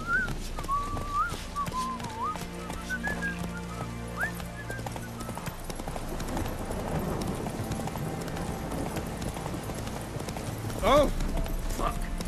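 Roach the horse's hooves clip-clop in a steady gallop in The Witcher 3, with a whistle and a neigh partway through and a short voiced exclamation over the game sounds.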